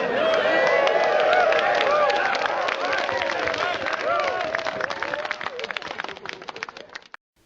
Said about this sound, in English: Let's all clap for Steve.